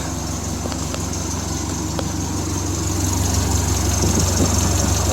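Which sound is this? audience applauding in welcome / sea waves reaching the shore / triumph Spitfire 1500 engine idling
triumph Spitfire 1500 engine idling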